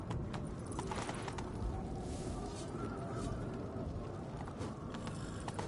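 In a video game, the horse Roach gallops with steady clip-clop hoofbeats under a dense, continuous rumble of game ambience and music, with no speech.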